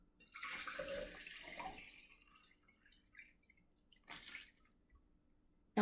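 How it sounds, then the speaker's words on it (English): Water poured from a larger vessel into a smaller container until it overflows the edge, a quiet trickling splash for about two seconds, then a short second pour, with drips in between. "And I'm going to pour it over here."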